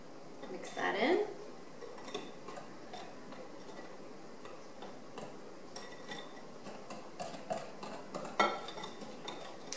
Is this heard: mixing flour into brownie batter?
yes